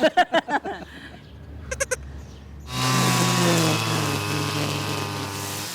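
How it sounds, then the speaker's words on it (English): Little pygmy goats on a farm bleat in a quick burst of several close calls, then a few more. After that a loud, steady mechanical drone takes over and covers everything else. "Definitely want to take one of those little pygmy goats."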